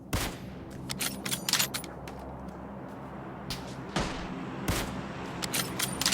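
Gunfire in the battle royale game New State Mobile, with bursts of sharp shots crackling over a steady game ambience, including louder cracks near 0.3, 4 and 4.7 seconds amid scattered distant shots.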